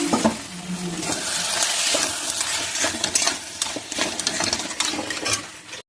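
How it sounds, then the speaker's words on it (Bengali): Crab frying in a pan and being stirred, a loud sizzle with repeated scraping and clattering of shells and utensil against the pan, no voices. "এবারে কাঁকড়া রান্না করছি, দিয়ে দিলাম এর মধ্যে।"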